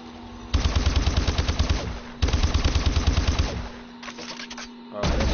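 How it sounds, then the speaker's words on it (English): Shotgun firing in Call of Duty Advanced Warfare, loud rapid volleys of shots in several bursts with brief gaps between them, close and without talk. "Shotgun, okay."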